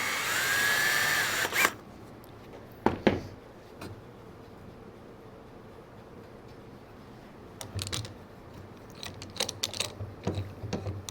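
A power drill whirs briefly at the start, then a few short bursts and taps follow as screws are backed out during assembly of a small Birch Grove Furnishings table; moderately close, with no talk.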